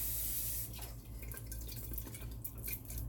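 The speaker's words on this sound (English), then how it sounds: "I'm going to just rinse the bottle of this Sweet Baby Ray's out." Tap water runs and drips into a Sweet Baby Ray's barbecue sauce bottle being rinsed at a kitchen sink, a steady close splashing with a low hum underneath.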